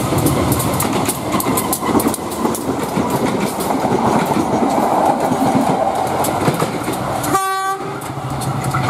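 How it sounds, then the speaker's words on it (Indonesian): A train passes close by through a narrow alley, loud continuous rumble and rail clatter throughout, with a brief horn blast near the end. "Ada kereta teman-teman."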